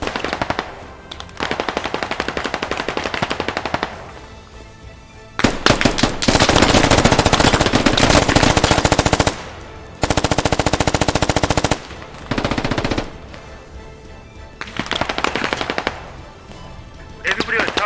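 Automatic gunfire from the Squad military shooter game hammers in long loud bursts, broken by short pauses and quieter stretches of scattered shots.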